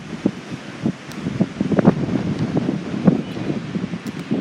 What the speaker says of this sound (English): High winds are doing it right now.